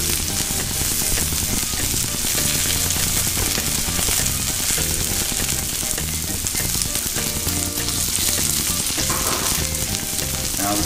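Diced onions and cilantro frying on a hot Blackstone griddle, a loud, dense, continuous sizzle close up with faint scraping and stirring underneath.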